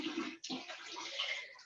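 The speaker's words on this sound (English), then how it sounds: "if you hear background noise, that's my" Water runs from a household tap or into a tub in a steady, close rush, briefly interrupted before continuing, with no voices heard.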